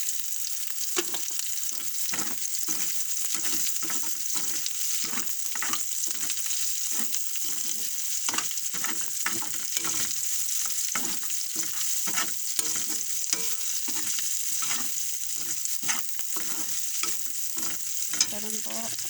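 Chopped onion and ginger fry in a pan, a steady close sizzle broken by repeated scraping stirs at a fairly even rhythm, with no talking throughout.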